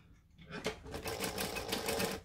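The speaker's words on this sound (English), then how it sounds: "And then I'm going to chain stitch this." A sewing machine chain-stitches a bag gusset in a fast, even run that starts after a brief pause, close by and fairly quiet.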